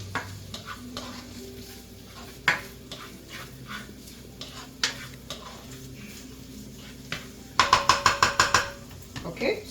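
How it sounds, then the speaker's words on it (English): Onions, celery, scallion and thyme are stirred into a sizzling pan with sausage for stuffing. A spoon scrapes and knocks against the pan repeatedly, ending in a quick rapid burst of stirring, with a soft fry underneath. "So then I'll go ahead and add the onions and the other ingredients and stir them"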